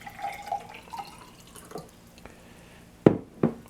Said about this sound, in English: I'll pour it into the drinking glass.